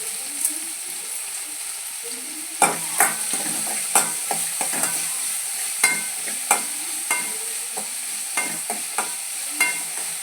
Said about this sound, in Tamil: வதங்கட்டும் வெங்காயம் தக்காளி வதங்கிட்டு